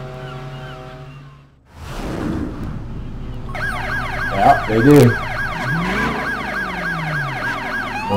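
Police car siren in the Driver San Francisco video game, a loud wailing siren that cuts in and keeps cycling up and down over engine rumble, with someone briefly speaking near the start.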